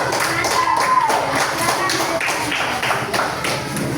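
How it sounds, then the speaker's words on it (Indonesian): Schoolchildren in class applaud for a group, steady dense clapping that fills the room, with faint voices mixed underneath. "Tepuk tangan untuk kelompok."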